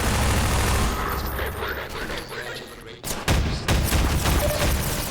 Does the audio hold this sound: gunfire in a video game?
yes